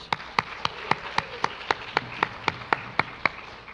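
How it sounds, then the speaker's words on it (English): A single pair of hands claps in a slow, steady rhythm of about a dozen crisp, evenly spaced claps for students at a school awards ceremony, fairly close and alone without talk. "Let's give them one more round of applause."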